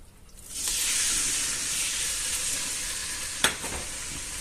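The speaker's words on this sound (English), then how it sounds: "once the oil is heated up, more or less, I'm going to add the pork chunks in" Pork chunks drop into heated oil for a stew with chorizo, bursting into a loud, steady sizzle that holds throughout, with a brief sharp clatter of stirring or a utensil near the end.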